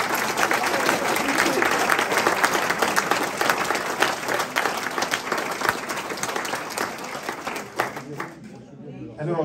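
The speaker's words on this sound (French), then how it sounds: "je voudrais vraiment que vous applaudissiez cette équipe qui a été formidable" An audience at a centenary celebration of a bishop's episcopal ordination gives long, sustained applause for the organising team, steady and fairly full before fading out near the end, with some chatter underneath.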